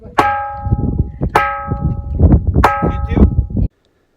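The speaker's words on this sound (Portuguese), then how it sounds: "É um som metálico que se parece com o de um sino." The ringing rock Pedra do Sino is struck by a hard object, giving loud metallic bell-like tones that ring and decay. Three main strikes come about a second apart, with lighter knocks and clatter between them.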